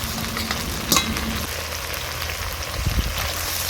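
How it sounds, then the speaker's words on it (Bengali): Ginger-garlic paste frying in oil in a pan, a loud continuous sizzle with a sharp clatter near the start and light scraping later on. "এতে আমি এবার আদা রসুন বাটাটাও দিয়ে দিচ্ছি"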